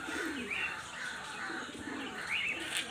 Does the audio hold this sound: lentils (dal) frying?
no